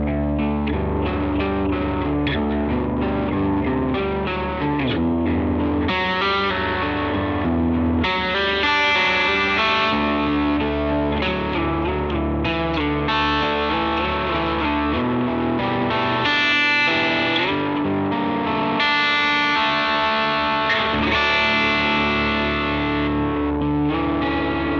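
Line 6 HX One guitar effects pedal shapes a distorted electric guitar with chorus-like shimmer, playing sustained chords and lines continuously and loudly for the full stretch.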